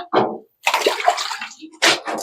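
Water poured from a bucket over a penned pig during bathing, splashing in three separate bursts with short pauses between, close and fairly loud, with no talk.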